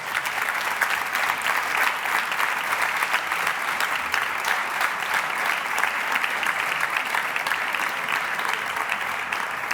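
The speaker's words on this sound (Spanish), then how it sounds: "Un aplauso muy grande." An audience at a forum talk on sustainable artificial intelligence in Cornellà breaks into dense, steady applause, many hands clapping evenly and loudly for the full stretch with no voices over it.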